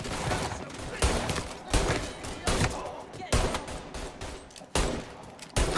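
Rapid gunshots from the Mafia Definitive Edition video game crack out in repeated loud bursts, several volleys spaced about a second apart over a constant background din.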